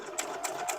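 A domestic sewing machine stitches pieced quilt fabric for a nine-patch block, giving a quick, steady mechanical whir with a rhythmic needle pulse, close and alone.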